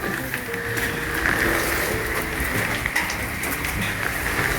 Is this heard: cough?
no